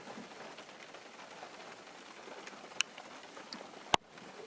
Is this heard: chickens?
no